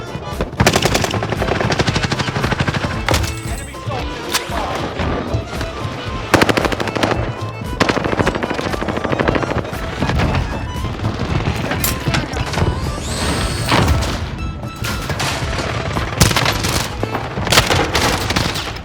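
Gunfire and shotgun blasts in the video game Call of Duty Warzone: dense, loud automatic bursts and heavy booming shots rattle almost continuously at close range, with brief lulls between volleys.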